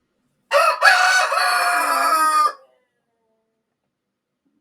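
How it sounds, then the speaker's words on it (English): A rooster crows once, a loud, close, drawn-out cock-a-doodle-doo of about two seconds, alone against silence. "Are you like recording and playing back the rooster crowing?"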